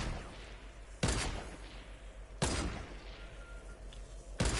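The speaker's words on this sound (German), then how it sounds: "Ich habe gerade den Schuss gehört neben mir, weil er knapp daneben geschossen hat mit seiner schallgedämpften Sniper." Three sharp, loud shots from a suppressed sniper rifle in the video game Fortnite, spaced unevenly over a few seconds, each a sudden crack with a short fading tail over steady game background noise.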